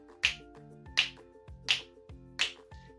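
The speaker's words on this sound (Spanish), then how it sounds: "y con mis deditos chasquiditos doy" Four crisp finger snaps in a slow steady beat, close and distinct, set against a quiet tonal backing track for a first-grade music class, with no talking.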